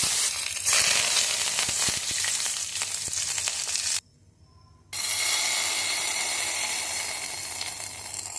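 Curry leaves hit hot oil with mustard seeds while tempering for small-onion chutney, a loud close crackling sizzle with popping bursts. It cuts to near silence for a moment, then a steady sizzle resumes.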